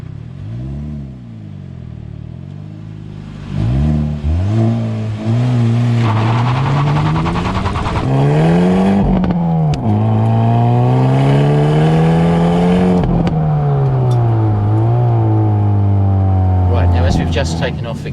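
A 2025 Hyundai i30N pulls away, its engine note climbing and falling through several rising sweeps as it accelerates, fairly loud and close, with people talking over it at times.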